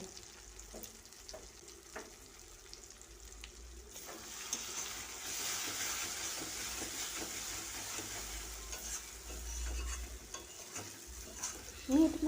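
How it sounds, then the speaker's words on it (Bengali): Spices and meat masala fry in hot oil while being stirred for about a minute, giving a steady close sizzle with scraping stirs against the pan, building slightly louder midway, no talk. "মশলা দেওয়ার পরে মশলাগুলোকে আবারও এক মিনিট ধরে কষিয়ে নিয়েছি"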